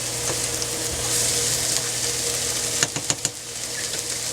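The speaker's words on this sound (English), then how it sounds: "You want to continue cooking them until they become completely tender." Onions frying in a pan, a steady sizzle close by with a few sharp clicks and pops near the end, no talking.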